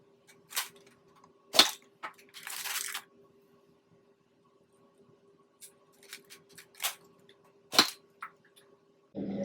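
Nerf blaster firing Worker Mod Gen 2 foam darts, a handful of sharp pops and clacks spaced irregularly over quiet room tone, with a few softer mechanical clicks between shots.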